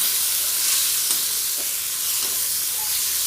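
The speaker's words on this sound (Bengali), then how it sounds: "একটু হালকা করে ভেজে নিয়ে আমি জল দিয়ে দেবো" Tomatoes and spices such as turmeric, salt, chili powder and coriander-cumin fry in a pan for an okra dish, giving a steady, close, continuous sizzle and hiss with a few faint stirring scrapes.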